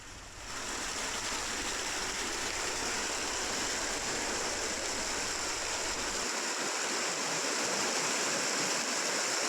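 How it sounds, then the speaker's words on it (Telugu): Heavy floodwater rushes through Azampura, Malakpet in Hyderabad after relentless rain, a loud, continuous broadband roar of flowing water that holds steady throughout with no voices. "ఎడతెరిపి లేకుండా కురిసిన వర్షానికి మలక్పేట అజాంపుర వద్ద భారీగా వరద ప్రవహిస్తోంది"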